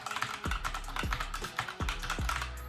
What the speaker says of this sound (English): This is how the switches sound.